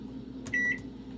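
A kitchen microwave oven's keypad gives a short series of quick, bright electronic beeps as a 15-minute timer is set, heard close and clear over a low steady room hum.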